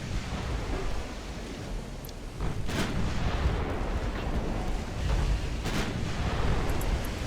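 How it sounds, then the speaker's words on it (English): Naval guns fire high-explosive shells in an Ultimate Admiral Dreadnoughts sea battle: heavy rolling booms swell over a constant low rumble, with a louder blast near the end. "Let's put all guns onto the Galatea with our high explosives and just get rid of her already"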